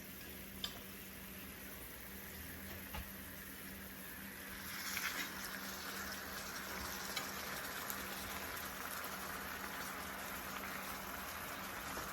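Honey jerk salmon frying in a pan gives a soft, steady sizzle that swells slightly partway through, with a few faint ticks and no talking.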